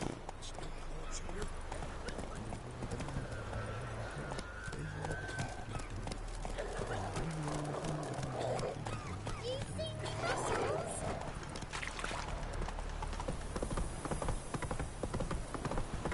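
Roach, a horse in The Witcher 3 video game, gallops with steady clip-clop hoofbeats under a constant game soundscape, with a brief whinny and game characters talking over the hooves.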